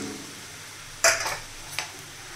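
Ground green peas sautéed in a pan and stirred continuously, a soft background sizzle broken by two sharp spatula scrapes against the pan, no voices.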